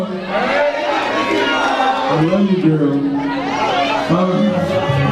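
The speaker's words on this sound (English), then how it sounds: "Man, just look at that crowd." A large crowd roars and cheers continuously at a live show, a loud, dense wall of noise with someone talking over it the whole time.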